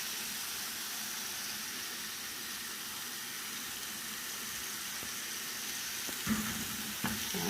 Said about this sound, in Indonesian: Nah, ini diaduk-aduk sampai meresap ke ininya ya, ke tunanya.